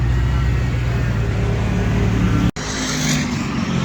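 A Crown Vic race car roars around Bristol Motor Speedway, its engine a loud continuous drone held flat out, briefly cut by a sharp dropout before the sound carries on.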